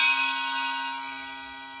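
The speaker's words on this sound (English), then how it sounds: "is a 6-inch Wuhan, kind of weird bell-like thing." A 6-inch Wuhan bell-like percussion instrument struck once, ringing with a bright metallic shimmer of many sustained overtones that slowly decay over almost two seconds, close and clear with no talking.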